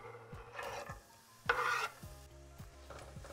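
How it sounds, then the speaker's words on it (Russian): Diced onion stirred and frying in lard in a skillet. A spoon scrapes in rhythmic strokes over a soft, steady sizzle, with one louder scrape partway through. "Перемешиваю и обжариваю до мягкости."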